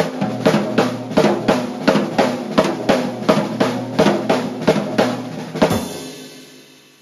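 A sped-up triplet phrase played on tom and snare drums, a rapid, evenly pulsing run of punchy strokes, close and loud, ending with a crash that rings out and fades.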